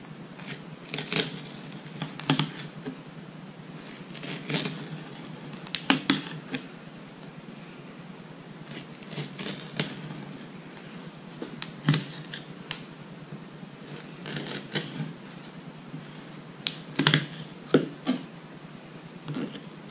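Knife cutting down the middle of each goat rib during home butchering, heard as repeated sharp cracking and crunching cuts through bone and meat at close range, spaced irregularly with quieter pauses between.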